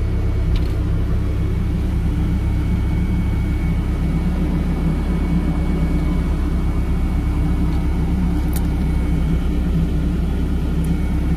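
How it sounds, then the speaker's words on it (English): A 2011 Caterpillar 305D CR mini excavator running its auxiliary hydraulics, a loud, steady, close engine drone with a low rumble that holds constant throughout, broken only by a couple of faint clicks. "Auxiliary hydraulics work."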